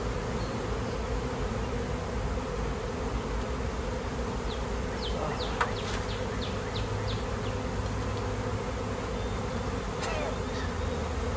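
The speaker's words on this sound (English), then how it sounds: "Tornado of bees." A swarm of honeybees flies off a branch, a dense, steady droning buzz that holds evenly throughout, with a few brief high chirps from nearby birds.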